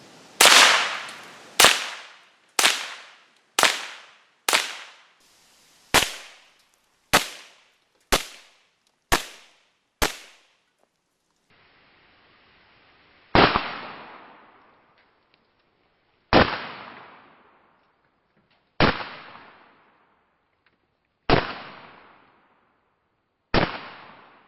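A Ruger 10/22 rifle fires a quick run of sharp, evenly spaced shots at targets set on golf tees, then pauses and resumes with slower, single cracks, each trailing a short echo outdoors.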